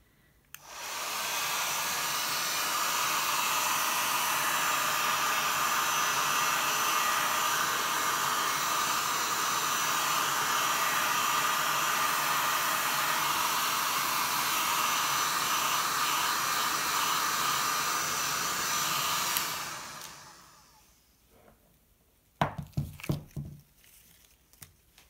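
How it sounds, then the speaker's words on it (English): Cheap Lidl heat gun blowing over an acrylic pour painting, a loud steady whooshing roar for nearly twenty seconds before it shuts off, followed by a few faint handling knocks. "And now I think I'm gonna use my heat gun."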